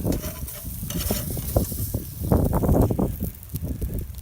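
Thick cut of meat cooking on an outdoor barbecue grill, a loud, close crackling sizzle with rustly bursts and scraping, swelling in the middle, no speech.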